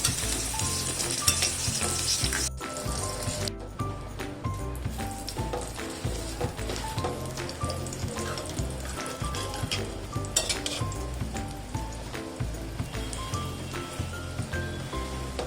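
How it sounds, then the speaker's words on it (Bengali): Pieces of taro stem fry in a pan over medium heat, making a dense, continuous crackling sizzle with spatula scrapes and pan knocks throughout, close and steady. "এপাশ ওপাশ উল্টে সময় নিয়ে কচুটাকে ভাজতে হবে।"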